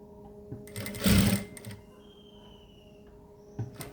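A sewing machine stitching two layers of cloth gives a short, loud burst of rapid stitching, with brief quieter runs before and after, heard up close with no talk.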